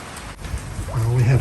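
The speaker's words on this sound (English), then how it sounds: "It's cold, easterly starting to blow, and it's persistently raining." Persistent rain patters steadily in a cold easterly wind at a boatyard haul-out, a dense close hiss, while someone speaks over it.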